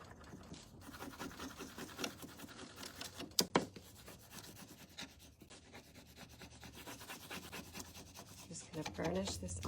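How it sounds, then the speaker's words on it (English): A burnishing tool is rubbed firmly back and forth over a rub-on transfer, making close, continuous scratchy rubbing strokes with one sharper scrape partway through. "Just gonna burnish this on here."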